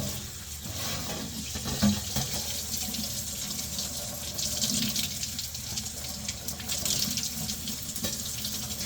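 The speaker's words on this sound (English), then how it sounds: "As far as rinsing them goes, literally just rinsing them under the water here." Tap water running over Saluda Mist X cymbals as they are rinsed in a sink, a steady close hiss and splash, with brief clanks and shifts as the metal is moved under the stream.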